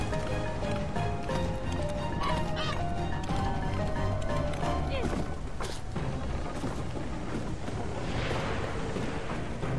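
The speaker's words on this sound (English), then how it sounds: "You are so obviously a swan, even though you sound like a goose." Swan honking like a goose in the video game The Unfinished Swan, loud honks and squawks over a dense, busy game soundtrack with clopping and running effects throughout.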